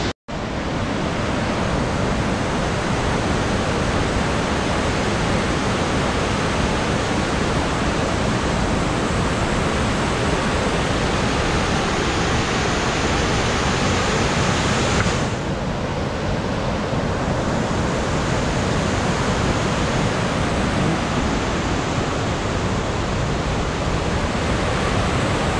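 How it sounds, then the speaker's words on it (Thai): The Mae Klang Waterfall roars with rushing water, a loud, dense, unbroken wash of noise that stays constant for the whole stretch, with no voices. "น้ำตกแม่กลางครับผมถึงแล้ว"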